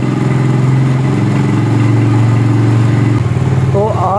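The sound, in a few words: motorcycle engine revving with loud silencer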